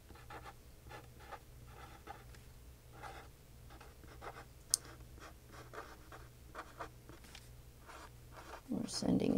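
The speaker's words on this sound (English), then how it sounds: "I'm going to write the first line across there." A pen draws a line across paper held in a SliderWriter guide, giving a faint, continuous scratching under steady talk. A louder rustle comes at the end.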